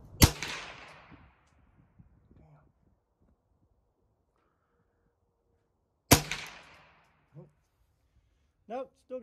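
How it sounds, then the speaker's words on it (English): Two sharp, loud rifle shots about six seconds apart, each ringing out with a decaying echo, fired while sighting in a rifle for groundhog season; brief speech follows the second shot. "I am shooting high to the right, so I'm going to adjust it after three shots."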